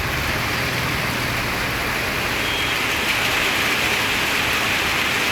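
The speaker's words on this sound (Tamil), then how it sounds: "ரயில் நிலையம், காந்திபுரம், உக்கடம், டவுன்ஹால், ஒப்பனக்கார வீதி பகுதிகளில் மிதமான மழை பெய்தது." Moderate rain pours steadily over the streets of Gandhipuram, Ukkadam and Town Hall, a constant loud wash of hiss with a faint low rumble of passing road traffic beneath.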